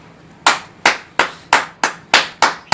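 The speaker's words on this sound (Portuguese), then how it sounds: "bateram palmas aqui embaixo" Hands clap sharply outside a house door in Jaffa, seven distinct claps spaced evenly at roughly two per second, loud and close with no talking.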